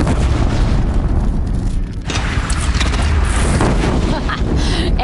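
Cannon fire and mechanical clanking in the video game Horizon Zero Dawn, a dense, loud rumbling mix of booms and ratcheting metal with voices talking throughout.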